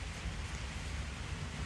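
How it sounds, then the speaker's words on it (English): Steady rain falls outdoors on a farm where a ram is kept, a dense, even hiss that fills the whole stretch with no breaks and no voices. "You know how rain just has a way of quieting things down."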